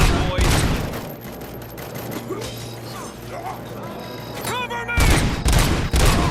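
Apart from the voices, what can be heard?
gunfire in the video game Robocop: Rogue City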